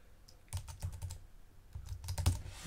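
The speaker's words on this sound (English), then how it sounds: "you can start from scratch, you can start typing in" Quiet bursts of keyboard typing, quick clusters of soft key clicks separated by a brief pause, heard up close.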